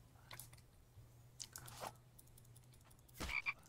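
A frog croaks a few times in a survival video game, short rough croaks spaced unevenly over a low steady hum, faint and close, with no talking.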